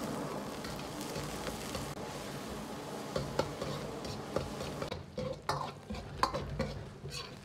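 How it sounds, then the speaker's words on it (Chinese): Sichuan peppercorns and chili peppers stir-fried in scallion oil in a hot wok, with a steady sizzle under scraping and clacking strokes that grow more frequent and uneven in the second half. "花椒、辣椒煸炒的时间稍微要长一点，炒制成枣红色"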